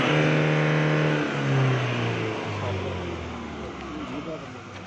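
A 2016 model car's engine revs hard during a performance check after a carbon-cleaning injection treatment, the pitch climbing and then falling away under steady nearby talk.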